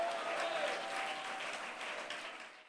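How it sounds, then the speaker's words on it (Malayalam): A congregation claps steadily through a Malayalam Christian sermon broadcast. The dense, even applause holds at moderate loudness for the whole stretch, then tapers slightly at the end, with no voices over it. "ആ പ്രത്യാശയോട് കൈയടിച്ച് ദൈവത്തിന് സ്തോത്രം"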